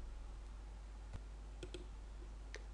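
A computer mouse clicks quietly at a desk while working in a spreadsheet: a handful of soft, sharp clicks, a single one then a quick pair and another later, over low background hum.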